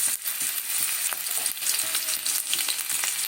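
Ginger hits hot refined oil and sizzles steadily, a close, bright frying hiss with small crackles and pops throughout.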